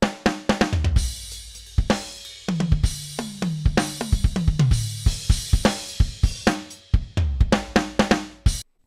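Punchy programmed drums from the Pro Drums key drum library: tight kicks, snares and toms in a busy gospel groove with quick fills, close, loud and alone.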